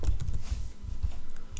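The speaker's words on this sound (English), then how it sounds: "Go to your search tab and type" Rapid clicks of keys being typed on a computer keyboard, a quick uneven run of close, crisp taps with no voices.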